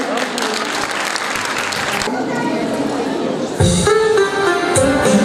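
Steady applause fills a preschool performance hall before a children's duck dance, then fades as music and voices take over partway through.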